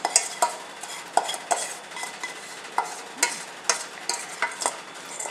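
A spatula scrapes a chocolate-and-butter mixture for Caramello egg brownies out of a saucepan into a bowl, in a string of close, sharp metallic scrapes and taps at an irregular rhythm, with no talking.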